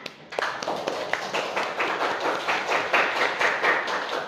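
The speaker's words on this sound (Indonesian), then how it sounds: "Berikan tepuk tangan" Students in an Indonesian-language class clap for a group after its presentation, a brisk run of fairly regular hand claps from a small group, close and clear, beginning after a brief quiet moment.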